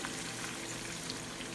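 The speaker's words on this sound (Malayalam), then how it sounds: "ഇതിനകത്ത് കുറച്ച് ഉപ്പുകൂടെ ഇട്ട ശേഷം വറുത്തെടുക്കാം." Onions sizzle steadily in hot oil with a pinch of salt for a Kerala-style beef dum biryani. The dense, even crackle holds at a moderate level for the whole short stretch, with no talk over it.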